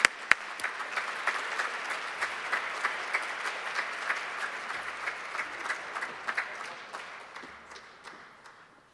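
Sustained applause from a synagogue congregation at a Reproductive Rights Shabbat, welcoming Senator Liz Krueger to the bima, steady dense clapping lasting several seconds before fading out.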